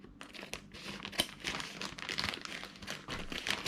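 A plastic package of shishito peppers is cut and pulled open, producing close, irregular crinkling and crackling bursts that continue throughout with no talking.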